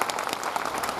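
An audience at a Hindu religious discourse gathering applauding. A brief, dense burst of many hands clapping lasts about a second at moderate loudness.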